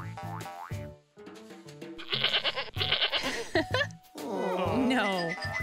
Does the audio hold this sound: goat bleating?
yes